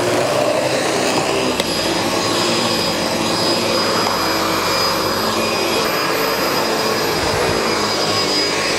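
SEBO Felix upright vacuum cleaner running steadily throughout, a loud continuous whooshing roar with a faint high whine and no voices.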